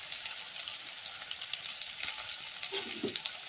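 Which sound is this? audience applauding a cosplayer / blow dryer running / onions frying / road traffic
onions frying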